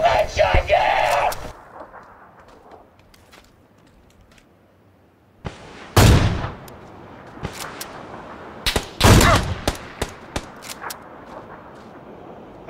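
Gunfire in a shooter video game: two sharp, loud shots about three seconds apart, each followed by a crackling tail, with scattered lighter clicks and a noisy burst at the very start.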